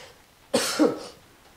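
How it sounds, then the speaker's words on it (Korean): A single close cough in two quick, rough bursts, then quiet. "제가 좀 기침이 나오는데 너무 신경 쓰지 마십시오"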